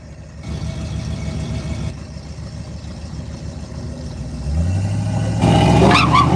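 A Mustang and a Jeep launch off the line at a drag race, with engines droning steadily before a louder, deeper surge of revving and acceleration near the end.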